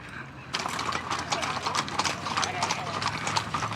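Horses being driven in Wyoming, their hooves clip-clopping steadily and close by, a busy rhythmic patter that carries on throughout, with people talking over it.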